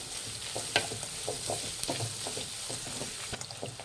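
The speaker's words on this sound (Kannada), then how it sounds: "ಈರುಳ್ಳಿ ಒಂದು ಸ್ವಲ್ಪ ಚೆನ್ನಾಗಿ ಫ್ರೈ ಮಾಡಬೇಕಾಗುತ್ತೆ" Onions frying in a pan, giving a soft steady sizzle with quick rhythmic stirring scrapes, fairly quiet and close, no talking.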